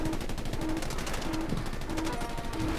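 Rifle gunfire in the World War II shooter game Battlefield V: a dense, continuous rattle of rapid shots, loud and close throughout, with no talk over it.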